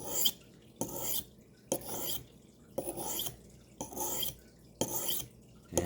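A knife blade is drawn repeatedly across a sharpening stone, giving about six evenly spaced raspy strokes separated by short quiet gaps, close and fairly soft.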